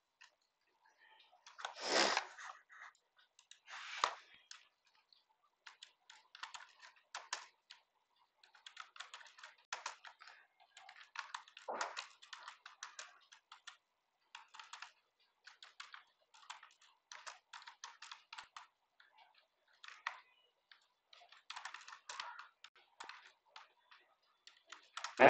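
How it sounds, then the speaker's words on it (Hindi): Steady, careful typing on a computer keyboard during a one-minute Hindi typing test on a website with backspace disabled, light clicky keystrokes in irregular bursts, close and fairly quiet, with brief pauses and no talking. "मैं संभल के टाइपिंग कर रहा हूं ताकि कम से कम एरर हो।"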